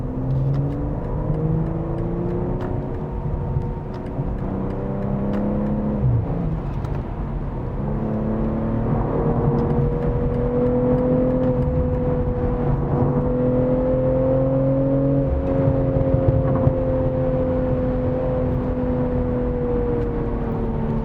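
A 2025 BMW M340i mild hybrid pulls steadily from low speed, its deep exhaust note rising in pitch as it accelerates, continuous and close with no talking.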